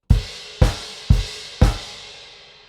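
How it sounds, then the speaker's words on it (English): A rock drum groove: four evenly spaced crash cymbal hits on each downbeat, each landing with a bass drum thump and washing out before the next, loud and close with no voices. "we're playing the right hand rhythm, quarter note crash cymbals"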